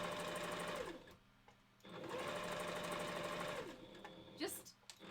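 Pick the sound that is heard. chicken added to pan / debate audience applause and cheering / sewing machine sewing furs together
sewing machine sewing furs together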